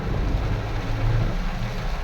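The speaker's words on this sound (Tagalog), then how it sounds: "Lakas ng ulan oh." Heavy rain pouring down on a drive toward the Skyway in Makati City, in a dense, continuous roar, loud and close, with a low rumbling underneath.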